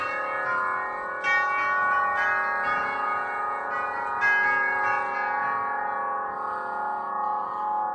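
Tubular bells in an antique clock ring out a slow chime sequence, with resonant strikes spaced a second or so apart and long, shimmering decays that overlap.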